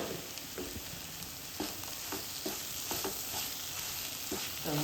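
Vegetable cutlet mixture with turmeric and coriander powder is stirred in a pan: quiet, soft sizzling under repeated scraping and tapping strokes of the spoon.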